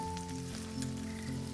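Zucchini frying in a pan gives a steady, soft sizzle that runs continuously, with faint sustained tones behind it.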